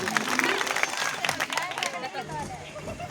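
An audience claps for donors at a gathering in India, a dense burst of applause mixed with crowd babble that thins out after a couple of seconds.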